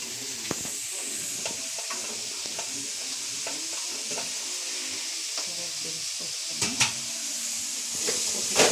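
Carrots and beans sizzle and fry in a pan for veg Maggi while being stirred, with steady hissing throughout and occasional scraping knocks of the utensil against the pan.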